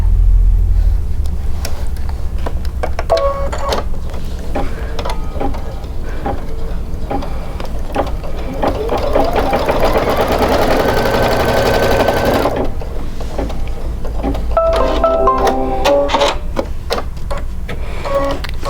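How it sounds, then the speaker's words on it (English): An embroidery machine stitching a top line on white fabric for a quilt block, running as a loud continuous rapid mechanical chatter with a rising whine from the motor midway and steady rhythmic needle clicks throughout, close up with no speech. "all it's going to do is sew the top line"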